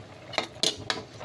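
Sautéed onion, garlic and tomato being transferred from a pan into a casserole pot, giving three sharp metallic clinks of a utensil against cookware, evenly spaced over a quiet kitchen background.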